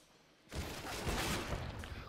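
Gunfire in a first-person shooter, with the player crouching and shooting from a balcony, bursts in after a short quiet and rolls on as a loud, continuous volley.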